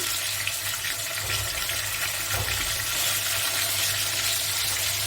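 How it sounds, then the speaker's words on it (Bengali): Chicken pieces frying in oil for chicken bhuna give off a steady, loud, close hissing sizzle that holds evenly throughout with no talking. "আর বাকি তেলে আগে থেকে রেডি করা চিকেনগুলো ভাজার জন্য দিয়ে দিলাম।"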